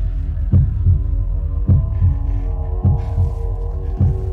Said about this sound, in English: I can hear your heartbeat, and it's pretty damn steady